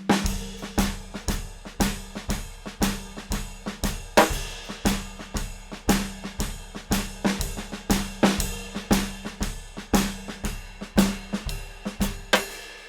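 A drum kit pounds out an aggressive Texas-style rock shuffle, with a steady swung pattern and a hard backbeat. The strikes come close, loud and evenly spaced, and no voice is heard.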